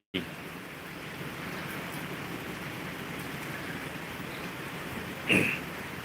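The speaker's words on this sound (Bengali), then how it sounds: "বৃষ্টি আর বৃষ্টি" Rain falls steadily in Japan around a trellised grapevine, a continuous even hiss with a brief louder burst close to the end.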